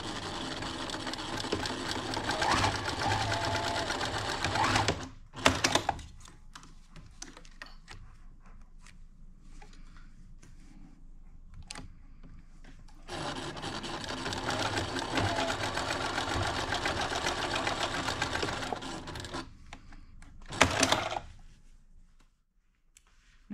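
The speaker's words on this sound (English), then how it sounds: "I'm going to go over and sew this 1/4 inch" A sewing machine runs a quarter-inch seam with elastic caught in it, humming steadily at close range in two long bursts separated by a brief pause with handling clicks, no talking.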